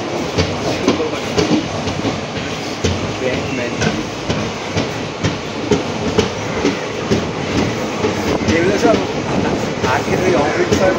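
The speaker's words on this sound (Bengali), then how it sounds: "এক্ষুনি ছেড়ে দেবে আমাদের ট্রেন কিষানগঞ্জ থেকে।" On the 13149 Kanchankanya Express from Kolkata to Siliguri, a sleeper-class coach rumbles loudly with steady rhythmic clatter of wheels on track, and voices talk nearby throughout.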